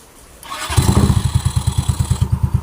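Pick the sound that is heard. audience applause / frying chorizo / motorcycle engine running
motorcycle engine running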